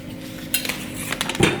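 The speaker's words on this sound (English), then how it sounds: "put our pan back on the stove" Frying pan set back onto a home kitchen stove after being emptied, heard as a few close metallic clanks and scrapes with a louder knock near the end, with no talking.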